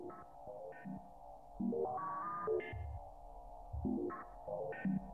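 The Foundry synthesizer by Sonicsmiths plays tones whose pitch jumps in discrete steps under a step LFO, producing a quiet, blippy, sonar-like sequence of rising and falling notes.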